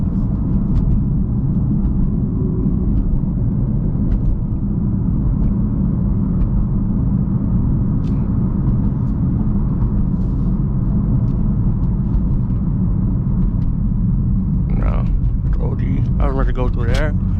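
Steady low engine rumble from a BMW M4 with the S55 engine as it drives and accelerates, a continuous loud drone filling the cabin, with a voice speaking over it near the end.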